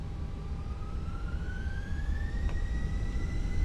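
Fenix Airbus A320 engines in Microsoft Flight Simulator spool up for takeoff, a steady rising turbine whine climbing in pitch over a broad constant roar, with no talk.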